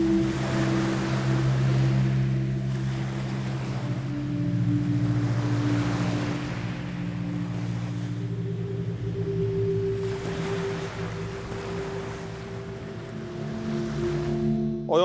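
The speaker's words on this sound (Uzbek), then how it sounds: "dengiz doim chiroyli, mavjlanib turibdi" Waves wash along the Aral Sea shore in a low steady roar with slow swells, mixed with a sustained low engine-like drone and wind, no voices.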